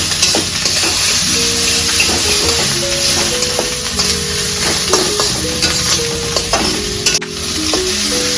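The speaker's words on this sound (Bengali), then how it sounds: "এখন এটাকে পুরো মিক্সচার করে নেব ডিমটার সাথে খুব ভালো করে মিক্সচার করতে হবে" Cooked rice being stirred with egg in a hot frying pan, a steady close sizzle with repeated scraping strokes of a utensil against the pan and light clinks, continuing throughout without talk.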